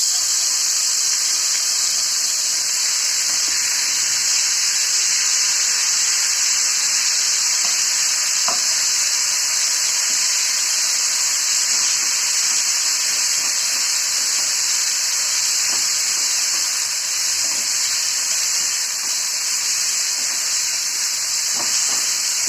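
Pointed gourd seed paste fries in a pan with a loud, constant close hiss and sizzle, broken by a few faint utensil taps, with no voices.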